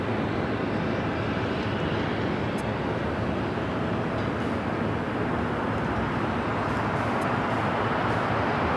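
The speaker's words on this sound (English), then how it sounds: "the 777 freighter, coming in from Frankfurt" A Boeing 777 freighter from Frankfurt arrives at Los Angeles airport as a steady, loud, broad jet roar that holds evenly throughout, heard from a distance with no talk.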